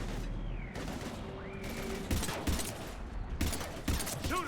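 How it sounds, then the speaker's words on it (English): Gunfire in the video game Mass Effect 3 Legendary Edition, a rapid burst of shots and impacts in the middle of a firefight, with tonal game effects and music beneath. "We're taking heavy fire."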